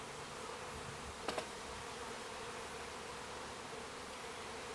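Honey bees being relocated into a top bar hive buzz in a constant, faint, close drone, with a brief couple of taps midway.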